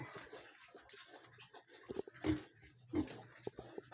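A Duroc Pietrain piglet, just given a vitamin injection, lets out a few faint grunts and squeals in a quiet pen, with soft rustling between the short calls.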